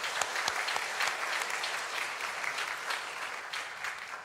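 A church congregation applauds in a steady, moderately distant patter of many hands clapping, fairly quiet and continuous throughout.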